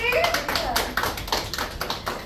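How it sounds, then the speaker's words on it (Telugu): Children clap in a classroom during a Braille reading lesson. Quick, irregular hand claps repeat close by for a couple of seconds, mixed with voices talking. "ఇప్పుడు క్లాప్స్ కొట్టండి."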